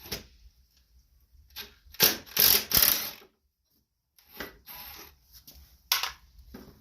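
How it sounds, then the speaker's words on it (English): Ratchet wrench with a 1/2-inch socket turning the spindle bolts on a Cub Cadet Super LT 1550 riding mower; bursts of rapid metallic clicking in short runs separated by pauses, close and fairly loud, no talking. "now you will need a 1/2-inch socket for your bolts"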